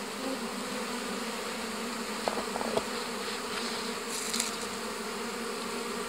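Steady, dense buzzing of many bees on a hive frame with new paraffin wax foundation, close and continuous, with a few faint clicks.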